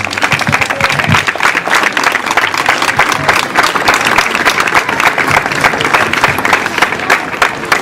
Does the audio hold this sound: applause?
yes